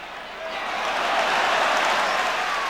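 A football stadium crowd swells into a broad roar of cheering and applause, rising after the first half second and holding loud and steady to the end.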